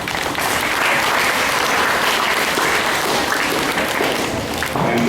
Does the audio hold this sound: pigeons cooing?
no